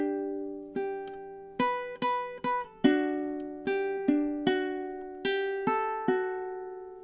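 Ukulele picks the verse melody of a song, a bright sequence of about a dozen plucked notes in a steady rhythm, each ringing briefly and decaying, close and clear with no voice.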